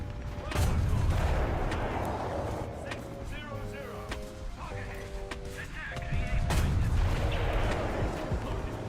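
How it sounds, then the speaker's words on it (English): Artillery fire in a war video game: heavy booming blasts with long rumbling tails, mixed with mechanical clanks and creaks, loud and close throughout, with game sounds layered over it. "Scared of this artillery."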